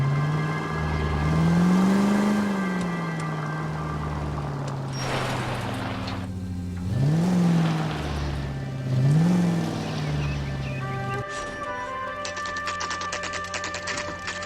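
A car in L.A. Noire drives along with its engine repeatedly revving up and easing back, a steady near motor hum rising and falling in several swells, ending with a brighter whirring.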